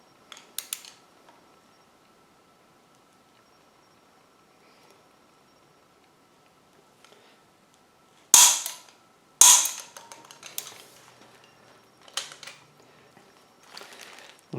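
Two sharp, loud clicks about a second apart from a torque wrench tightening a bolt to 65 foot-pounds on an Olds 455 V8 during a camshaft install for a 1987 Olds 442, followed by softer metallic clinks.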